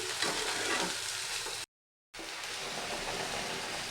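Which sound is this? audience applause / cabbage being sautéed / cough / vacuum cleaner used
cabbage being sautéed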